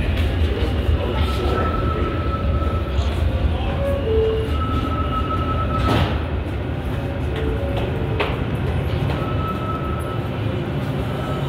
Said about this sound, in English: Manhattan-bound F local train.